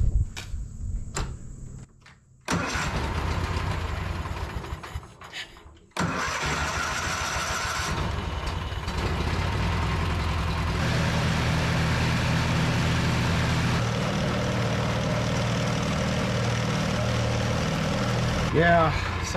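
A small engine on an abandoned Argo amphibious vehicle, choked and running rough, cranks and catches, then idles unevenly with a steady rumbling drone for most of the stretch, with brief clunks and talk over it early on.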